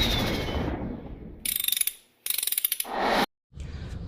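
A ratchet wrench rattles in fast bursts while car wheels are taken off for brake work, loud and close, with short pauses between runs and a stretch of background noise at the start.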